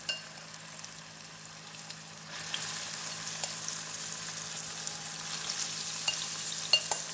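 Marinated soya chunks frying in oil, a soft steady sizzle that swells louder after a couple of seconds and keeps crackling with a few sharper pops near the end, no voices.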